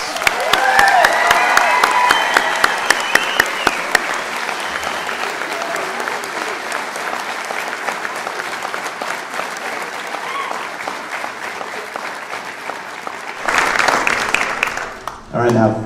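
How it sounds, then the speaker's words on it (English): A graduation ceremony audience for the class of 2025 breaks into sustained applause after the tassels are turned, dense clapping filling the hall steadily before swelling again near the end. "Yeah, round of applause."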